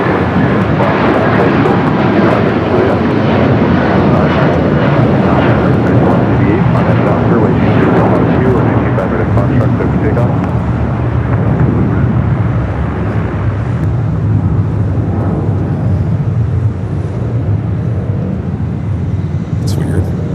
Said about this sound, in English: We got another United 757. This one a 300 rolling down the 25 right.